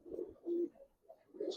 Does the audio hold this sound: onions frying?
no